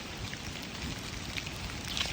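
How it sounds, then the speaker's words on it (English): Steady rain falls outdoors, a soft, even hiss of drops with no voices, continuous and fairly faint throughout. "It's raining."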